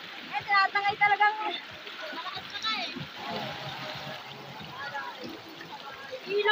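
River water at the Bitbit river near Ipo Dam in Norzagaray, Bulacan rushes and splashes steadily at close range, with people talking and exclaiming over it.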